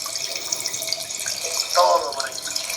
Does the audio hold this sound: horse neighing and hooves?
no